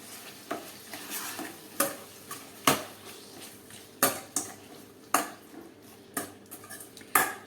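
Garlic chutney is stirred into hot oil in a pan for a muskmelon curry, with rhythmic metal spoon clanks and scrapes against the pan every second or so over a faint sizzle.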